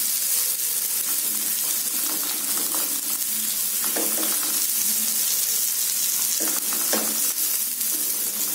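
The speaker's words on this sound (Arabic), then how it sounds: "كنخليو البصله تشحر في الزيت هاكا طيحها في الزيت." Onion sizzling as it fries in hot oil in a pan, a constant crackling hiss with a few louder bursts of spatter, close and uninterrupted, with no talking.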